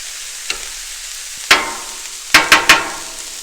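Keto egg roll in a bowl cooks on a Blackstone griddle, a soft steady sizzle broken by one sharp metallic scrape and then three quick scrapes of a spatula against the flat-top, close and without voices.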